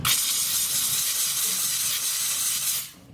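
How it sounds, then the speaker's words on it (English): Steam cleaner hissing against car upholstery, the steamer wrapped in a microfiber towel: a loud, steady close-up hiss that holds for nearly three seconds, then cuts off abruptly. "wrap up the steamer in the microfiber towel and go right through it"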